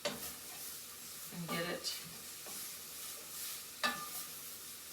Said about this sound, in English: So I just kind of stir it around